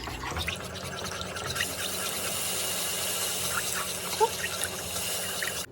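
A cup of water is poured into buttery gravy in a pan, giving a continuous splashing, hissing pour that lasts several seconds and then stops abruptly, with no talking over it.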